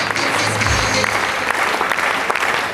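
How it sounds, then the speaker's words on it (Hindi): Sustained, loud audience applause from a crowd at a stage event, steady dense clapping filling the whole stretch after the host calls for a big round of applause. "एक बार इनके लिए जोरदार तालियां प्लीज।"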